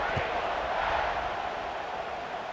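A stadium crowd in EA Sports College Football 26 keeps up a steady, diffuse roar throughout, constant and moderately loud, with a faint thump early on.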